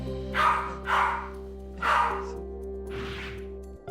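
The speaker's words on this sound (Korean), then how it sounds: "낯선 사람을 만났을 때에도 짖지 않았던 토리가 아기의 울음소리에는 짖는 반응을 나타냅니다" A pet dog barks in reaction to a crying baby, giving three loud, close barks in quick succession followed by a softer, fainter fourth bark, over a steady low indoor hum with no talking.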